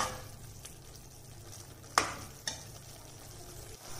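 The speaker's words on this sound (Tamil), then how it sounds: "வெண்டைக்காயை போட்டாச்சு. அதை நல்லா வதக்கிக்கணும்." Okra sautéing in a pan for bhindi masala, a faint steady sizzle with a couple of sharp utensil clinks and scrapes as it is stirred, no voices.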